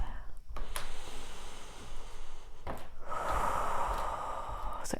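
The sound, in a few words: deep breathing in a restorative yoga pose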